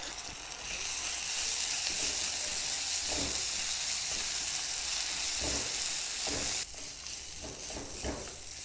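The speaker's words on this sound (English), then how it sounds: "Make sure to cook the ginger garlic paste well into the recipe." Onions and ginger garlic paste fry in a pan for Matar Paneer, a steady loud sizzle throughout with occasional stirring scrapes, easing slightly near the end.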